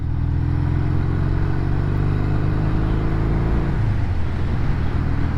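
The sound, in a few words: lathe spinning at 800 rpm to test Triumph speedometer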